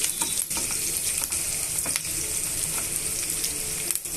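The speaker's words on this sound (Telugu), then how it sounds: "ఇవన్నీ బాగా ఒక రెండు నిమిషాలు వేగనివ్వాలి ఉల్లిపాయ ముక్కలు పచ్చిమిరపకాయ ముక్కలు బాగా వే వేగిపోయాయి కదండి" Onion and green chili pieces fry in a pan with a loud, dense, continuous sizzle, broken by occasional scraping knocks of a utensil stirring them, close by and without any talking.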